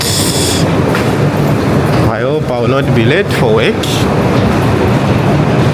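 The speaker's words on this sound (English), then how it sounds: "Now I need to get on the metro." A Russian metro train runs with a loud, steady rolling rumble and rail noise that fills the whole stretch, close and constant, while someone speaks briefly over it in the middle.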